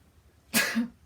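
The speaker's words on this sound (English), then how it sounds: "I'm going to sneeze." A single sharp sneeze close by, a sudden breathy burst with a short voiced tail, in an otherwise quiet room.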